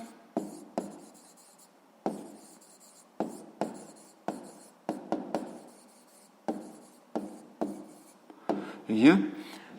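A maths answer written by hand, pen strokes scratching on paper in short irregular bursts, close and quiet, with a voice speaking in places.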